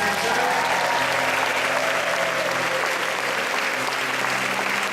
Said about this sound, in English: So let's give one more round of applause here for our high school students